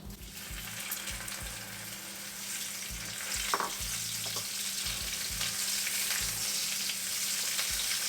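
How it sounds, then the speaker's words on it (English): Okra (bhindi) sautés in about a tablespoon and a half of oil in a kadai over a low flame, a constant fizzing sizzle that builds slightly, with a low rumble and brief metallic scrapes, no speech. "And now we're going to saute the bhindi."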